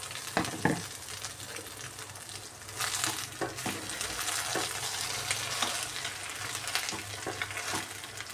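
Cooked rice with salt being stirred in a hot pan for egg fried rice: steady frying sizzle broken by repeated scraping and tapping strokes of the spoon.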